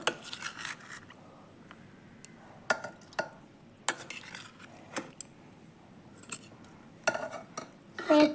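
Chana dal, tomato and cabbage kurma stirred in a pot, with scattered metal spoon scrapes and clinks against the pot over a quiet background, a few sharper knocks spaced irregularly and a louder burst at the end.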